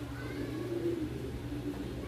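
A racing pigeon with yellow eyes gives a soft, low cooing, close but quiet over steady background hum.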